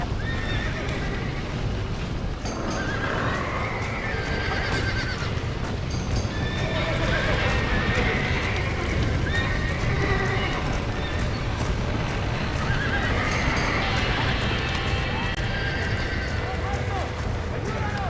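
Horses in Red Dead Redemption neigh repeatedly amid clattering hooves and a dense, chaotic background, with the shrill whinnies returning several times across the stretch.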